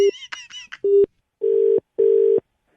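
A telephone rings in repeated long electronic tones after a quick run of higher dialing beeps, loud and close with brief gaps between rings and no talking.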